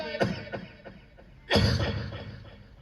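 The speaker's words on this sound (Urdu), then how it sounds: "کھانسی ہو گئی اتفاق سے." A man coughs several times, a few short coughs followed by a louder, longer coughing fit close by.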